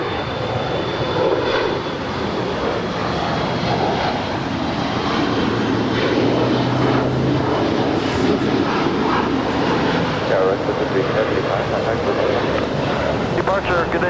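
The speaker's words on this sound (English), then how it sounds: "up next on the north side is Lufthansa Flight 456 coming in from Frankfurt." A Lufthansa Boeing 747-8 inbound from Frankfurt, landing on the north side at LAX, makes a steady, loud jet roar that holds for the whole stretch alongside broadband wind rumble.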